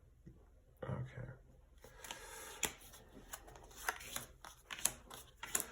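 Tarot cards being shuffled by hand in a repeated papery riffle and slide of soft flicks and taps, close and fairly quiet, with a few sharper snaps near the end.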